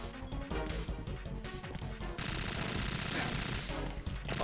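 Rapid gunfire from shooting in the video game Fortnite, a dense, loud burst of shots that thickens into heavier continuous fire partway through, with game music and sound effects mixed in.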